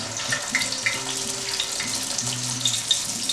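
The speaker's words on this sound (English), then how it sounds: "It's frying all right." Filipino turon, a banana spring roll, fries in hot oil with a steady crackling sizzle and scattered pops, close and continuous, while faint tonal hum sits underneath.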